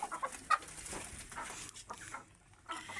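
Hens cluck and fowl call in a small backyard flock where a hen has been laying small eggs, with several short clucks scattered across the moment at moderate distance and no talking.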